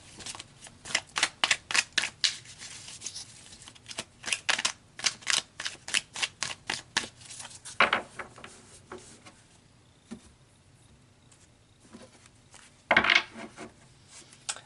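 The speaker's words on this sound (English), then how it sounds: "so let's pull some more cards." Tarot cards are shuffled and drawn in a steady run of crisp, rapid card flicks and riffles, close and fairly loud, thinning into scattered snaps and slaps toward the end, with no talking.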